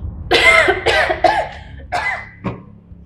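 A woman coughs in a drama scene, a run of five or six loud, close, rough hacks in quick succession that grow a little weaker toward the end, with no speech.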